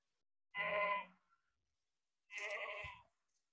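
A large castrated Gujri goat bleats twice at a livestock showing in Aurangabad, two loud, close, wavering calls about a second apart with no talking.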